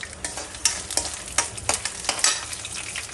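Coriander seeds, peanuts and dried red chillies dry-roasting in a pan for homemade gongura pickle, with a spoon scraping and stirring in uneven strokes over a light crackling sizzle.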